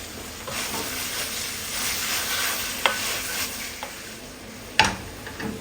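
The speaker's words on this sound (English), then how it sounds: "Now all the vegetables go in. The spring onions, red onions, garlic, chillies, tomatoes." Beef mince keema stir-frying with spring onions, red onions, garlic, chillies and tomatoes, giving a steady close sizzle with stirring scrapes and a few sharp utensil knocks against the pan.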